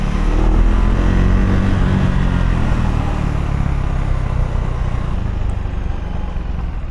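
A 2024 Husqvarna Vitpilen 401 single-cylinder motorcycle being ridden gives a continuous loud engine drone mixed with heavy wind rush, holding steady before easing slightly toward the end.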